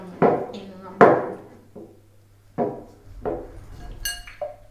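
Peeled San Marzano tomatoes drop into a bowl in a home kitchen, giving a few separate soft thuds and clinks with pauses between them, followed by a brief bright ring near the end.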